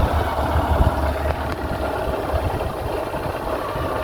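Honda Shine motorcycle engine idling steadily close by on a farm, a continuous low rumble with constant vibration and no speech over it.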